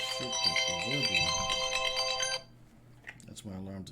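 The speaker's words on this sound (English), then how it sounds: "That's my alarm to stop being on the phone." A phone alarm ringtone plays loudly and steadily for a couple of seconds, then cuts off abruptly, followed by a person speaking briefly afterward.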